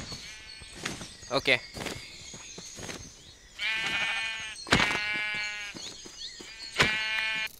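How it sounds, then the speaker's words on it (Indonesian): Goats in Minecraft bleat several times in wavering, nasal cries, loud and close, mixed with a brief spoken word and game clicks and footsteps. "Di sebelah sini ada kambing"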